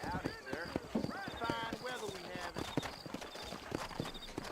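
A horse is ridden in the video game Red Dead Redemption, with steady, close clip-clop hoofbeats running throughout amid other game sounds.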